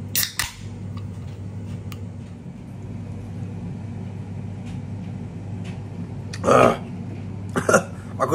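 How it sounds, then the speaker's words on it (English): A single burp at a kitchen counter while frozen food is readied for an air fryer, a short loud burst standing out above a quiet room hum, with another brief noise shortly after. "feel a burp coming up as I was about to swallow it."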